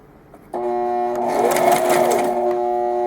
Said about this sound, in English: So you want to sew through here, and then 2 stitches in between, and then add another one.